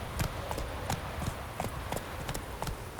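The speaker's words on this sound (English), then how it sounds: "We've got wild horses?" Wild horses' hooves clip-clopping in The Witcher 3 game, a brisk irregular patter of sharp hoof strikes, fairly close and continuous, with no talking.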